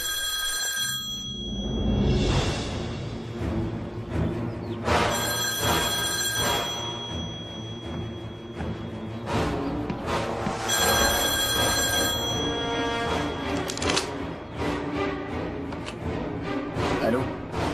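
A telephone rings in repeated bursts of bright, bell-like trills, each lasting a second or two, over steady background music in a 1999 French thriller.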